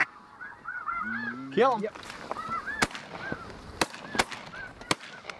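A flock of geese honks repeatedly during a waterfowl hunt in Saskatchewan, close calls coming in overlapping bursts with sharp gunshot-like cracks between them, while hunters speak briefly.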